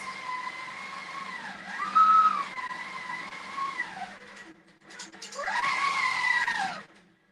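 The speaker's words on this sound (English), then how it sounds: "Whenever I get going faster than the regulator, it beeps at me." A long arm quilting machine's stitch regulator sounds a sustained high warning tone in two long stretches with a brief gap between, loud and close, pitch wavering as the machine moves.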